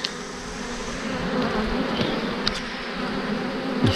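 Honeybees from a captured swarm buzz around hive frames, a steady close insect drone lasting throughout with a few brief louder passes near the microphone.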